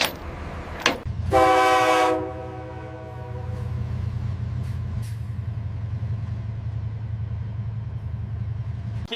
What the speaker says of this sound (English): Set the brakes.